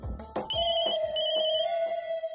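Telephone ringtone sounding in a room, a sustained electronic tone with bright repeating chimes, clear and fairly loud, with scattered clunky knocks underneath and no talking.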